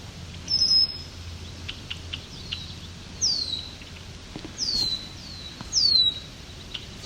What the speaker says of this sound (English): There's a nice loud swamp sparrow.